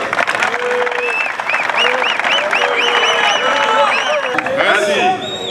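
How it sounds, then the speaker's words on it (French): A crowd applauds the young people at an International Youth Day event in Kinshasa, with loud sustained clapping and cheering voices and whistles rising over it near the end. "Un vibrant applaudissement pour tous les jeunes qui sont ici sur place"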